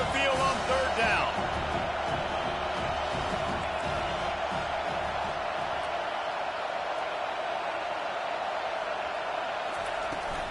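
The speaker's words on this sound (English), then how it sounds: "Here comes this home crowd as the defense tries to get off the field on third down." Steady roar of a home stadium crowd in a PS5 football video game, loud and continuous through the whole stretch, with a brief swell near the start and play-by-play commentary talking over it.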